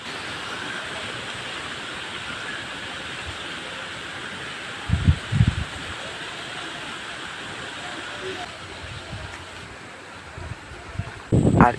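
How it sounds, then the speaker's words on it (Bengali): Morning storm outdoors: a dense, steady hiss of wind and rain fills the whole stretch, with a few low rumbling gusts buffeting the microphone near the middle and at the end. "আমি সকালে ঘুম থেকে উঠে দেখি না ঝড় বৃষ্টি দুটোই হচ্ছে"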